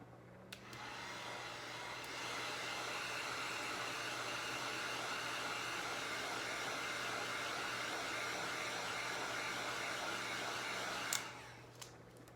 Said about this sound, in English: am going to hit this with a heat gun for probably 10 to 15 seconds